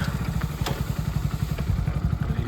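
A diesel tractor engine chugs steadily nearby on a farm, a low rhythmic thumping throb with occasional clattering knocks over it.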